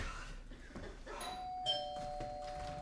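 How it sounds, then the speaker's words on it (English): A doorbell chimes indoors with clear ringing tones, faint and fairly distant, against quiet room noise. "that was the doorbell, wasn't it?"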